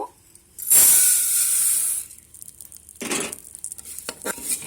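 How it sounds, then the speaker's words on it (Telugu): Moong dal frying in ghee inside a pressure cooker gives a loud burst of hissing sizzle that fades. Stirring then follows with a softer sizzle and a few scraping knocks, close by. "కుక్కర్లో మరి కొంచెం గీ వేసుకొని గీ వేసుకున్నాం కదా ఫ్రై చేసుకోవాలి పెసరపప్పు"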